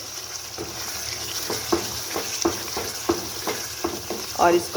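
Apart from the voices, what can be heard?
beef masala with green chillies frying in pan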